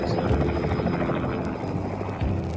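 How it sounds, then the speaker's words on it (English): A helicopter flies high over mountains, its rotor chopping steadily at moderate loudness beneath a narrating voice throughout. "the chopper flies high over the mountains"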